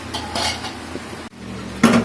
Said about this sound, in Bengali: এই যে আমি আরেকটা কড়াই বসিয়ে দিলাম।